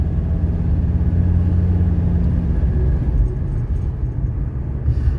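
A 1985 Mercedes 300CD on a test drive, its engine rumbling steadily from inside the cabin with a low, continuous drone and no obvious break between gears, with no talking.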